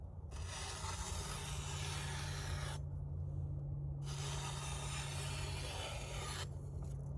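A chipped Shun knife blade scrapes rhythmically against the abrasive belt of a Ken Onion belt sharpener, two long rough grinding passes separated by brief pauses, over a steady motor hum.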